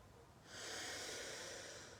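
A single audible inhale during a neurosensory breathing exercise, a soft airy breath swelling in at about half a second and holding steady to the end, close and quiet with no talk.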